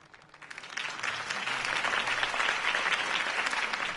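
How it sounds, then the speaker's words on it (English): A crowd in the video game Batman: The Telltale Series breaks into applause that swells quickly and holds as a dense, steady clatter of many hands clapping. "could have heard that applause"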